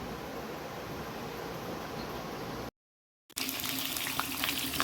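Potatoes fry in hot oil with cumin and bay leaves in a home kitchen, a steady loud sizzle that cuts out briefly and then returns even louder and brighter.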